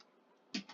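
A couple of quick, close keystrokes on a computer keyboard, sharp clicks breaking an otherwise near-silent room tone.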